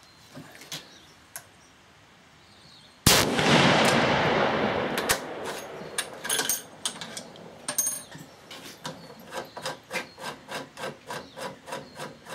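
A .300 Rum rifle fitted with a T2 Terminator muzzle brake fires one sharp, loud shot that decays over a couple of seconds. Scattered knocks come after it, then a run of rhythmic scraping clicks.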